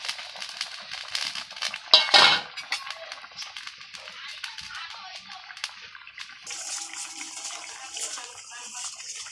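Water is poured into a pan of bata fish curry with potatoes, giving a brief splashing rush followed by a hissing bubble under faint kitchen clatter.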